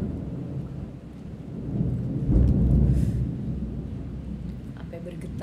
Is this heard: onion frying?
no